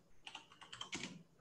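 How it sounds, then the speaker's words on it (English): Keys on a computer keyboard are typed with one hand, a quick burst of roughly ten soft, close clicks in an uneven rhythm, faint and alone. "I don't know why I'm typing with one hand."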